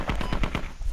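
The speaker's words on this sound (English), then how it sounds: "They're still shooting at it with a 50 cal." A .50 caliber heavy machine gun fires a rapid burst of about six loud, evenly spaced shots in the video game Squad, each report sharp and booming.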